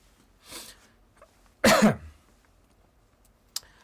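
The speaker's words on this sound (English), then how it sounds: "the cough is driving me insane here" A few coughs nearby: a soft one, then a loud harsh cough, and a brief sharp one after a pause, with quiet in between.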